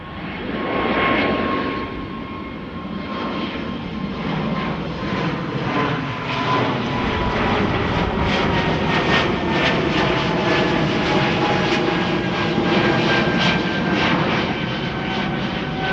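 A plane takes off at Amsterdam Schiphol Airport, its engines roaring loud and steady through the whole stretch, with the whine shifting as it climbs away.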